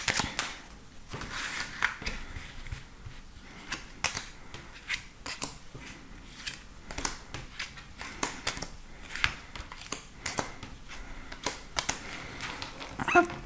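Tarot cards are shuffled and drawn by hand, giving soft, irregular papery flicks and taps that come close up and quiet over several seconds, with no talking.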